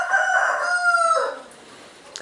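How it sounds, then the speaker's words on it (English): A rooster crows once at a Texas Badlands homestead, loud and close. The long harmonic call holds steady and then fades into quiet outdoor air. "I've got to do something about all those roosters"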